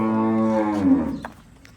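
A black cow at a dairy farm gives one long, close, drawn-out low moo that fades away, with no talking.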